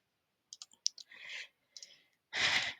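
Mouse clicks and keyboard taps while entering text in Cricut design software: a few sharp, close clicks in a quick cluster, then airy breathy sighs between them in a quiet room.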